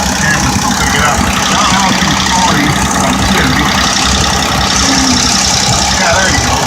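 A gold Oldsmobile engine fitted with an orange Chevy bell housing idles steadily and loudly up close, a continuous rumbling run with a faint knocking texture throughout.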